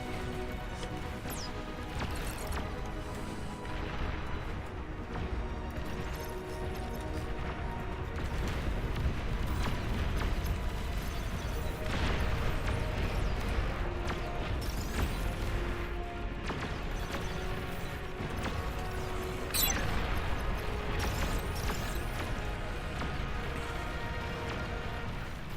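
Distant missile and artillery barrages rumble through a large real-time strategy battle in Beyond All Reason, a dense continuous wash of booms and crackling impacts layered over mechanical unit noise and music, with no voices.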